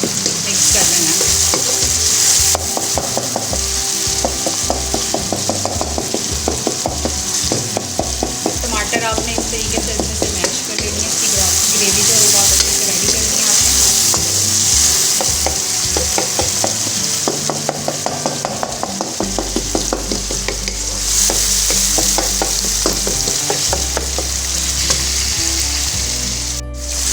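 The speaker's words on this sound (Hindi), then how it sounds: "इसको हमने ऐसे स्पैचुला की मदद से जो है वो अच्छे से मेल्ट कर लेना है" Masala for stuffed tinday stirred and pressed with a spatula in a hot pan, a steady loud sizzle and fry with repeated scraping strokes and occasional chopping-like knocks, running continuously without talk.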